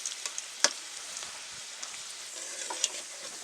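A homemade snack fries in a pan of hot oil, giving a faint, steady crackling sizzle with a few small sharp pops scattered through it and no voices.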